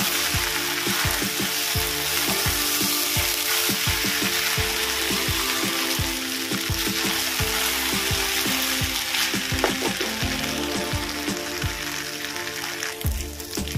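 Two chillies frying in hot oil in a wok while making hilsa pulao, a steady crackling sizzle with frequent scraping and clicking from stirring against the pan, close and continuous.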